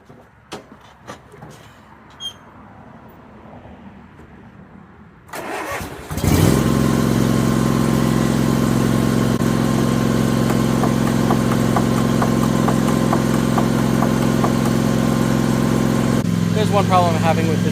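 A Toro Timecutter zero-turn mower engine cranks and catches after a few quiet seconds, then runs at a loud, steady idle close by, with a short change in tone near the end.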